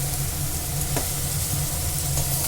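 Fried jackfruit and potato pieces are stirred with a fried spice paste in a pan for a Bengali curry. The sizzle is steady and close, with a soft scraping stir running through it.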